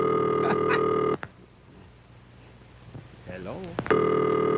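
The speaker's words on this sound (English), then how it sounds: "And this is the ringing signal." Loud electronic telephone ringing tone, cutting off after about a second; a voice speaks briefly in the quiet gap before the ring sounds again.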